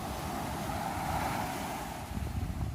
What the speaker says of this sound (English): Oh, except for this huge wave. Crash.